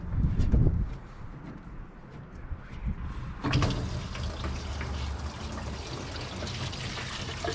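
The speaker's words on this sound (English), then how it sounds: "Pull that old radiator hose and let her drain." Old coolant drains from a pulled radiator hose on a 1958 Chevrolet Apache, a loud splash at first, then a steady trickling pour that surges again midway and keeps running close by.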